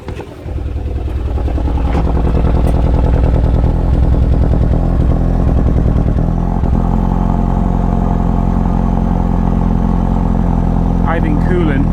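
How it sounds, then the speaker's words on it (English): An engine idles with coolant suspected of leaking in and being burnt off, giving a loud, steady, close rumble that runs unbroken for the whole stretch. "I think coolant is getting into the engine and the coolant gets burnt off and it's doing this."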